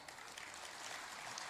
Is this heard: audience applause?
yes